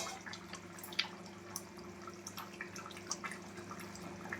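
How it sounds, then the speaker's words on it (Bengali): Katla fish curry with bottle gourd boiling in a pot, giving a soft, steady bubbling with scattered small pops and drips, fairly quiet and close, with no one talking. "আর এদিকে আমার একদম ফুটে গেছে ভটভট করে"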